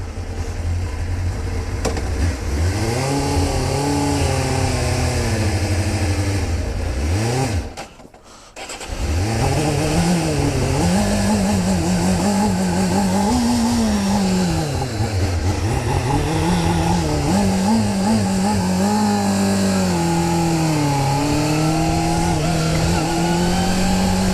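A Suzuki motorcycle engine idles and revs at low speed in first gear with the choke on, loud and close, its pitch wavering up and down, with a brief cutout partway through before it picks up again.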